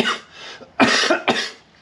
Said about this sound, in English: Cough is still with me from COVID.